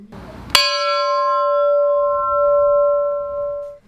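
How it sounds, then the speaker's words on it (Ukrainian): A single loud memorial bell strike rings out at a ceremony honoring fallen defenders, its clear tone sustaining and slowly fading, after a brief murmur of voices. "На знак шанування їх світлої пам'яті лунають удари дзвону."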